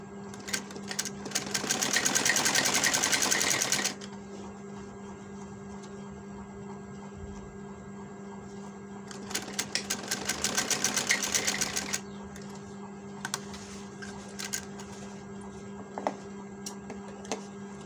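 A sewing machine stitches the collar placket of a men's kurta in two rapid whirring bursts of a few seconds each, followed by scattered short stitches and clicks over a low steady electrical hum, with no speech.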